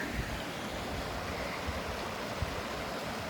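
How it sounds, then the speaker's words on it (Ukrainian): A cool mountain river in the Carpathians flows past in a dense, even roar of rushing water, close and unbroken, with no voices. "Клас, прохолодна гірська річечка."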